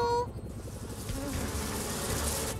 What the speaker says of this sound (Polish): Pszczoły lecą do ula zrobić miodek.